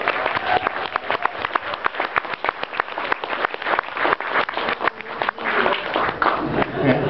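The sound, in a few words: applause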